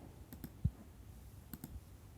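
Quiet, close computer mouse clicks as a website checkbox is ticked, a few soft isolated clicks spaced apart over faint room noise.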